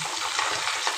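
Bay leaves dropped into hot oil, the same oil just used to lightly fry chicken for a home-style chicken curry, with a steady close sizzle that crackles continuously for a moment.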